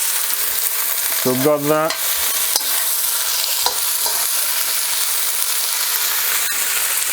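Celery stir-fry cooking in a pan gives a loud, continuous close sizzle, with a short stretch of speech near the start and a few faint clicks later.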